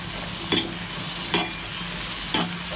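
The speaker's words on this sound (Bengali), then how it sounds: "দিয়ে হালকা একটু নাড়িয়ে নেবো" Vegetables are stirred into cooked rice in a hot frying pan. Three distinct scrapes land about a second apart over a continuous soft sizzle, close up, with no speech.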